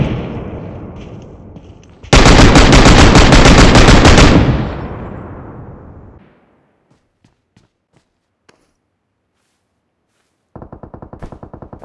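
Rapid automatic machine-gun fire in PUBG Mobile, a loud dense burst of about two seconds that tails off into scattered faint clicks and silence, followed by another quick rattling burst at the end.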